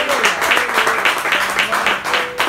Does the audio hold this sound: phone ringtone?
no